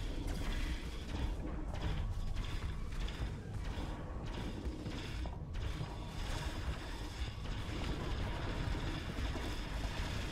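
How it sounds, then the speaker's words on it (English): Spaceship engines powering back up in the game Starsector, a steady mechanical grinding rumble with creaking, ratcheting texture that runs continuously and fairly loud throughout, with no talk over it. "Oh, here comes the engines back online."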